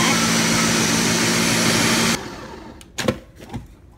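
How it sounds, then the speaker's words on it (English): A blender whirs loudly and steadily for about two seconds while blending coconut meat with water for coconut milk, then cuts off abruptly, leaving a few faint knocks and quiet voices. "We're now blending up the coconut."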